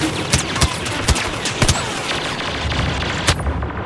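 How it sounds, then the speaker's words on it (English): A cargo ship blows up in Star Wars Battlefront amid a loud, continuous battle roar, with sharp gunfire bursts and heavy booms punching through at uneven intervals. "They have destroyed one of our cargo ships."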